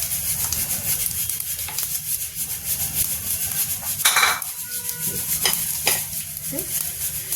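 Cumin seeds crackle in hot oil in a pan after asafoetida goes in for dal, a constant close sizzle with stirring scrapes and light utensil clinks over it.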